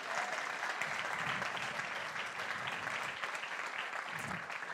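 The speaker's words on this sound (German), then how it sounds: "wir geben Ihnen einen grossen Applaus" Congregation applause for a team at a livestreamed church service, a dense, steady wash of clapping heard from some distance, fairly quiet and continuous throughout.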